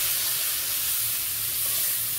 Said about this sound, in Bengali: ধনে জিরে গুঁড়ো, লাল লঙ্কা গুঁড়ো, লবণ, আমি নাড়াচাড়া করে নেব